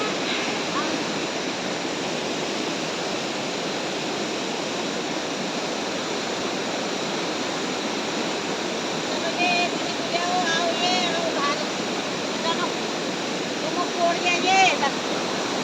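Steady broadband rush of flowing water fills the clip, with faint, brief voices and small chirps surfacing near the end.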